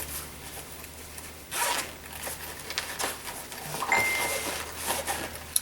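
A zipper on the pocket of a clear yarn craft storage bag, opened and closed in a few short rasping pulls at close range, with handling noise between them and no talking.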